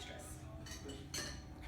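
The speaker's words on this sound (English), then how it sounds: "you can use your spoon to scoop out the extras" A spoon scraping and scooping avocado flesh for guacamole, with soft clinks of metal against a bowl and a brighter scrape near the end, quiet and close.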